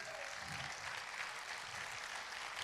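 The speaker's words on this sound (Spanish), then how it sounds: "¿Cuánto le da un aplauso al Rey de Reyes?" Applause from a church congregation filling a worship service, a steady broad wash of clapping held evenly through the moment, with no voices standing out.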